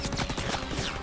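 Rapid bursts of gunfire in the World War II shooter Call of Duty WW2, dense overlapping shots crackling loudly and close for about a second without speech.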